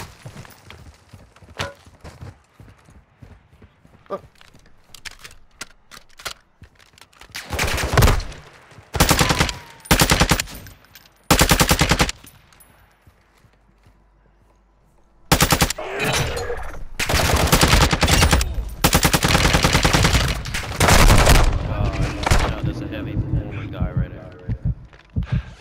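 Gunfire bursts in Call of Duty Modern Warfare II DMZ: loud, dense stretches of rapid automatic shots separated by pauses, with a long sustained barrage near the end. Players talk between and over the shooting.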